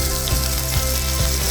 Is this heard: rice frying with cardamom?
yes